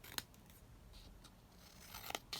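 Quiet snips of scissors cutting down paper journal cards, with one crisp cut early and a quick cluster of cuts near the end over faint room hiss.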